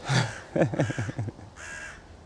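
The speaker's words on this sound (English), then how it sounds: "sheep last week, crow this week." A crow caws five times in a quick run at an allotment garden, loud and fairly close, with a voice speaking briefly around it.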